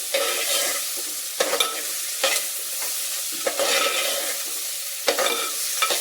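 Drumsticks in a hot clay pot sizzle steadily while being stirred, with a handful of distinct scraping strokes spaced across a continuous bright frying hiss and no voices.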